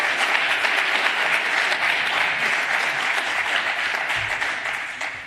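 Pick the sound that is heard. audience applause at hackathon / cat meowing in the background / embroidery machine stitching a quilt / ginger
audience applause at hackathon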